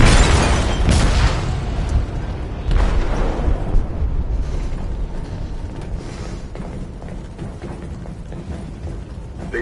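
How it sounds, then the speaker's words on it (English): A heavy explosive detonates inside a ship's hold in the video game Detroit: Become Human, opening with a loud, deep booming blast and then settling into a long rumbling roar with creaking and mechanical rattles. "They detonated an explosive in the hold."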